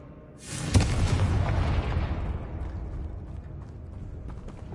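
The Confringo blasting spell in Hogwarts Legacy sets off a sudden loud explosion: a sharp crack and heavy boom, then a long rumbling, crackling decay that fades over several seconds.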